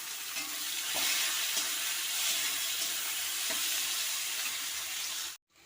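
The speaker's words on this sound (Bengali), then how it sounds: "পেঁয়াজ আর টমেটো একে প্রথমে ভেজে নেব তেলে।" Chopped onion and tomato fry in hot mustard oil, a dense, steady sizzling hiss with faint stirring taps, close and continuous before cutting out near the end.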